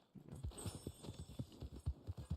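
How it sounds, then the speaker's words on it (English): Horse hooves clip-clop in Red Dead Online, a steady run of close, evenly spaced hoofbeats with no other sound on top. "Wow, fine horse there."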